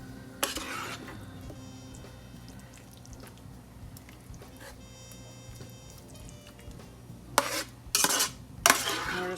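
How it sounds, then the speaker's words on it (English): A meat mixture is spooned over a canned-ingredient dump casserole, with soft scraping and wet dollops, followed by sharp clatters of a spoon against the dish near the end. "we're going to add our meat mixture on top of this"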